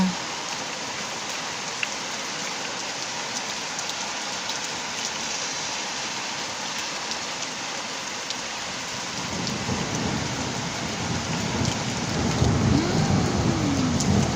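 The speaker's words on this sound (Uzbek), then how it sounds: "Qo'rqamanda shunaqa chaqmoq chaqsa." Heavy thunderstorm rain pours steadily and close by, with a deep roll of thunder building in the last few seconds.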